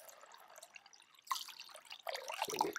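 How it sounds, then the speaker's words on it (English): Water pours from a one-gallon jug into a 6-liter ultrasonic cleaner, starting as a faint trickle, then surging into louder gurgling splashes in bursts, close by with no talking. "I'm pouring in a full 1-gallon jug of water."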